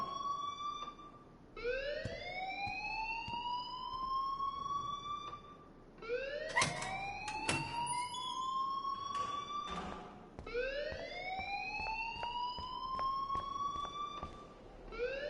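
An alarm wails in a video game, repeating rising siren-like sweeps every few seconds at a moderate, steady level with no talking.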